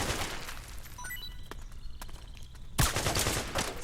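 Rapid gunfire in a Metal Gear game firefight. A steady fusillade of close shots with scattered pops and clinks, then a sharp, louder burst near the end, with no talk.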